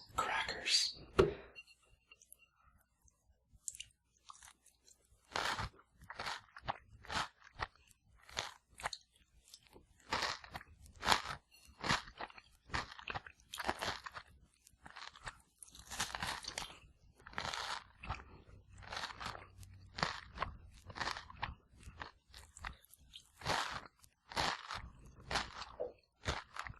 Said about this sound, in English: I'm gonna have some of these brown rice crackers.